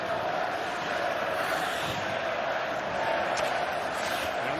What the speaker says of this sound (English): And the Milic chant going up.